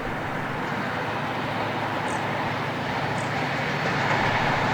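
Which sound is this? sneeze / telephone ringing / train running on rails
train running on rails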